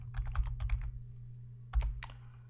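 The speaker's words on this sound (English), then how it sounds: "I can type in names and units and so on" Fingers type on a computer keyboard, first a quick run of close clicking keystrokes, then a pause, then a few more taps, all soft and with no talking.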